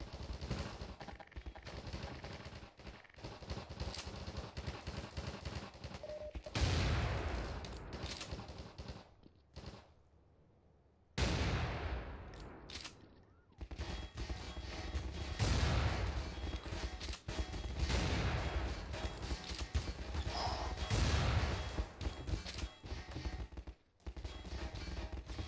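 Rapid automatic gunfire from M9K Specialties weapons in Garry's Mod, loud dense bursts of shots and battle noise running through most of the stretch with a couple of brief quiet gaps.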